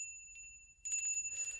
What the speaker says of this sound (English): I ring this wee bell and somebody appears with it.